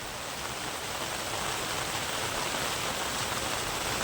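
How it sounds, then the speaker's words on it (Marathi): Heavy rain pouring down in a dense, steady hiss, constant and loud with no pauses or voices. "बघा हे पाऊस धो पाऊस चालू आहे"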